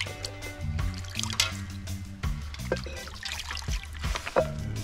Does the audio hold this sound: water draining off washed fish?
yes